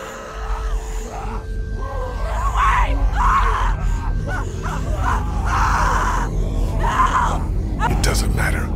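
In The Walking Dead video game, a woman screams and groans in repeated anguished bursts over a low rumbling backdrop.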